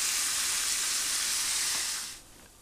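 Ground beef browning in a pan gives a steady, loud broadband sizzle that holds for about two seconds, then drops away sharply as the heat or pan is pulled back.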